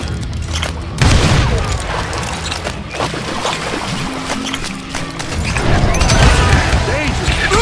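A volley of gunfire rains down from above in the Western shooter game Call of Juarez Gunslinger, in a fight aboard a steamboat. Heavy, booming shots crack and crash densely over a loud, continuous rumble.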